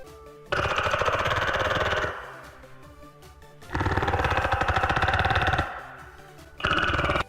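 A video game void monster queen moving while burrowed: three rough, pulsing rumbles like a churning drill, each lasting a second or two, separated by quieter gaps.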